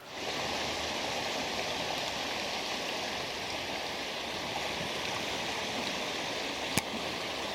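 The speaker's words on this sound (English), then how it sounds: "I can tell right now this is one dangerous river when it gets this high." The flooded Blue River in southern Indiana rushes past in a dense, continuous roar of high water carrying logs and debris, steady and unbroken throughout with one faint tick near the end.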